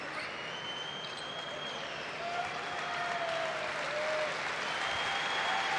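Crowd in the arena at a Spain versus Romania EuroBasket 2017 basketball game gives a sustained round of applause that swells slightly toward the end, with faint whistles riding over the clapping.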